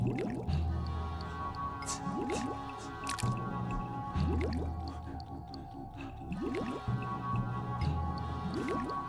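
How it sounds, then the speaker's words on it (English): Tar pit bubbling in the video game Harvey's New Eyes, with soft, repeated squishy bubbling and dripping pops over a steady low ambient drone. "The tar pit was bubbling invitingly"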